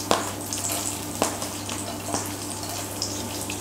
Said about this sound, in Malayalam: ഇതിലേക്ക് നമ്മൾ എടുത്തു വെച്ചിരിക്കുന്ന ഇഞ്ചി, വെളുത്തുള്ളി അതുപോലെ തന്നെ പച്ചമുളക് അരിഞ്ഞ് ചേർത്ത് കൊടുക്കാം